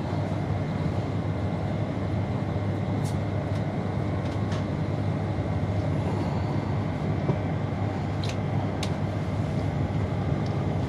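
Onboard a GWR Class 802 train (unit 802109) running between Didcot Parkway and Reading, a steady, heavy low rumble and rolling roar fill the cabin throughout, with a few faint high clicks and squeaks over it.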